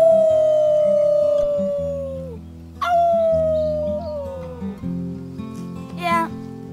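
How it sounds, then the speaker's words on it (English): Characters in the Life is Strange 2 video game howl together as a team, long wolf-like howls that slide downward in pitch, repeated three times, loud and close over a low background rumble. "Let's start with our team howl."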